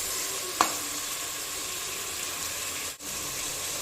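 Onions sautéing in a pan for chicken biryani, a continuous even sizzle throughout with one sharp utensil tap near the start and a brief dip as they're stirred.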